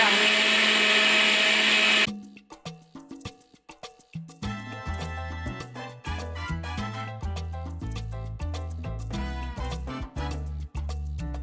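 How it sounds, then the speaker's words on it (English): A Ninja blender whirs through a batch of coquito after a brief loud burst, its motor pitch shifting and pulsing as the thick drink churns, close and loud for about nine seconds. "This is a real blender. I mean, you know which one. Our Ninja."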